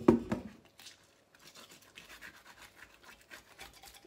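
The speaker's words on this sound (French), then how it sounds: "Donc il faut frotter le citron." Lemon rubbed against raw fish to clean it gives soft, wet scrubbing and scratching sounds, close and quiet, in a steady rhythm after a louder thump at the very start.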